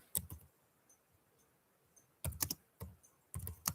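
Keys clack on a computer keyboard in quick bursts of typing separated by pauses, close and fairly crisp in an otherwise quiet room.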